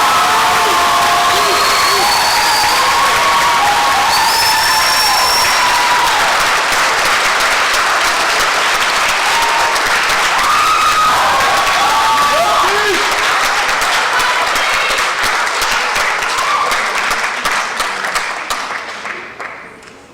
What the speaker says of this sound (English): Let us all give a rousing Asian American Studies round of applause to the winner